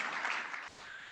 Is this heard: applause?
yes